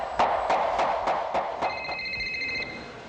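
An emergency signal beaten on a patioba palm leaf in the forest, six sharp, evenly spaced knocks, followed by a brief steady ringing tone.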